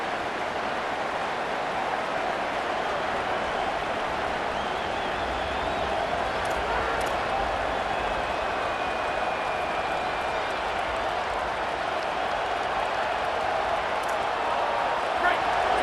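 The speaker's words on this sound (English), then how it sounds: "Decibels rising as the crowd gets behind this defense on third down." Stadium crowd noise in the EA Sports College Football video game, a continuous loud roar that swells as a defense faces third down, with brief claps and game commentary speaking over it.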